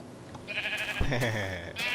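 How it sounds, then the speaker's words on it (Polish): Minecraft sheep bleating when struck with a sword, a short nasal bleat over game background noise with a thud of the hit, fairly close and moderate in loudness. "Będziemy bić owce mieczem."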